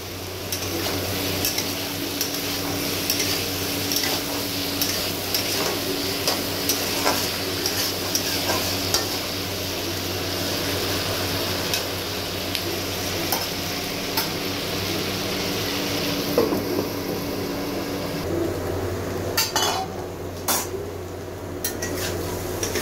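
Vegetables such as carrot and potato cook in a pan for a fish charchari, with a spoon repeatedly scraping and tapping the metal over a constant low sizzle, close and busy, quieting near the end.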